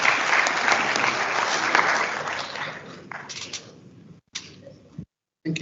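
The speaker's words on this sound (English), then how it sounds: "So please give a round of applause to Mr. Dudley Ochio." An audience at a Council of Legal Education meeting for bar exam candidates applauds a guest speaker. Strong, sustained clapping thins out midway into a few scattered claps, then near silence.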